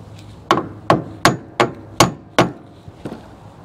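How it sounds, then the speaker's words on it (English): A part mount is tapped up into place against the underside of an RV rear bumper, giving six sharp, evenly spaced knocks followed by two lighter taps, close up with no talking. "tap it up against the bottom of the bumper."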